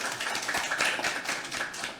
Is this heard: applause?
yes